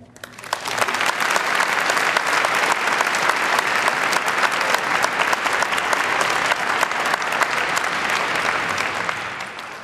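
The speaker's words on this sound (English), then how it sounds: "continue your applause for a moment more for the panel" A live debate audience applauds the panel in a hall: dense, loud, sustained clapping that swells in within the first second and holds steady throughout with no talking over it.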